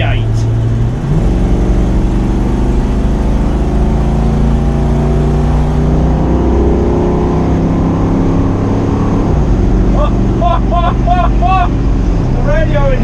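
A 1964½ Ford Mustang with a 289 cubic inch V8 drives along, its engine droning loudly and shifting pitch as it accelerates and changes gear, heard from inside the car, with a voice speaking over it near the end.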